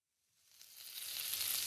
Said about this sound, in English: Here's more mirepoix. Let me add it to the heated pan.